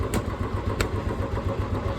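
A Royal Enfield motorcycle engine runs steadily after a single kick start, a loud, close idle with a low rhythmic thump throughout, no voices.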